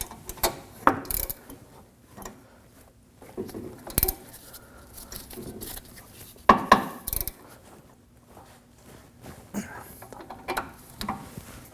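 A ratchet tightens the axle nut on the front wheel bearing of a 2014-2020 Acura MDX, giving short bursts of close metallic clicking separated by brief pauses, with faint clanks in between.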